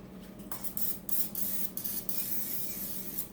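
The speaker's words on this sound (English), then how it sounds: "we spray it down with some cooking spray" Cooking spray hisses in short bursts onto a hot pan pulled from the oven for cornbread, several quick sprays over a steady low background hum.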